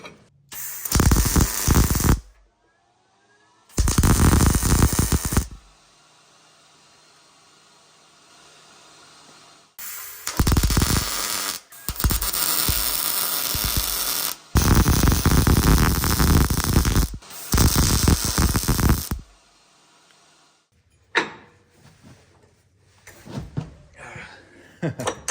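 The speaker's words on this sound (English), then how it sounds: "So we're just gonna weld this in place right there, not hard." Welding on a broken winch: about five loud bursts of crackling, hissing arc noise, each lasting one to three seconds with quiet gaps between, followed by a few faint clanks and shuffling.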